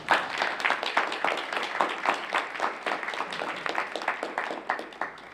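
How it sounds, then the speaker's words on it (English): Audience at a preschool program board meeting applauds, a rhythmic, steady run of moderately faint clapping across the room with no one speaking. "Please let's give them a round of applause."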